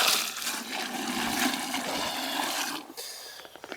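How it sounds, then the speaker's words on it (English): Water poured steadily into a compost tea mix in a container, a continuous close rushing splash for about three seconds that tapers off into a few faint trickles. "I'm going to pour water in here just to mix this up a little bit, not a ton of water."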